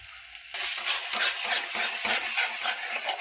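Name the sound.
black masala spice roasting and stirred in oil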